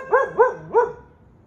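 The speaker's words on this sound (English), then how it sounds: "Now you got other dogs barking." Three quick, close, loud barks from a dog in a domestic setting, evenly spaced and then fading to quiet, with no voices over them.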